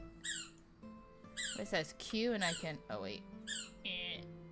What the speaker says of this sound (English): If you hear a squeaking noise in the background, my puppy has decided it is squeak time.